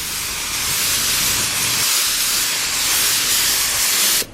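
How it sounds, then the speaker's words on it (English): A spray paint can hisses in one long, steady, close burst, lightly coating the interior of a DA9 Honda Integra, then cuts off abruptly at the end. "I'm just spraying it really lightly"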